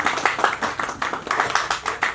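An audience claps in a quick, uneven rhythm of many hands, loud and close, in steady applause with no pause throughout.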